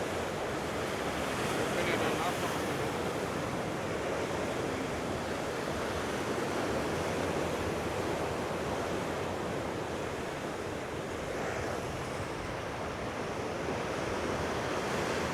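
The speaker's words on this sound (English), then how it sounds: "seventh wave effect, where you've got waves within waves" Ocean waves surge and break continuously on the Mallorca shoreline at Costa de la Calma, a steady broadband roar of surf with wind buffeting the microphone and occasional swells building within the wash.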